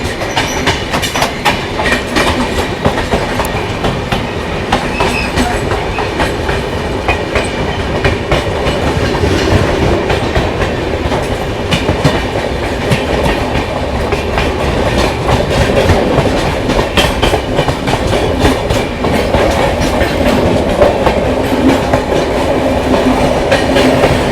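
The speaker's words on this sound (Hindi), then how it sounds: "सामने से किसी तो ट्रेन का डिपार्चर भी हो रहा है। केरला एक्सप्रेस।" Kerala Express train rolling past at a station junction, a long steady rumble with rhythmic clickety-clack of wheels over rail joints, loud and continuous throughout.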